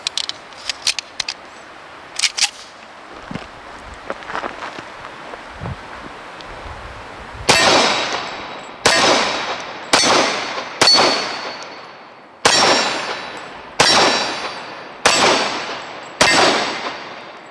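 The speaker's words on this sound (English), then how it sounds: "the Les Baer custom carry in stainless with an 8-round CobraMag. First rounds out of this pistol after buying it" A stainless Les Baer Custom Carry 1911 pistol fires eight loud, sharp shots in a fairly even rhythm, each crack decaying briefly, after a stretch of quiet handling clicks and metallic clinks.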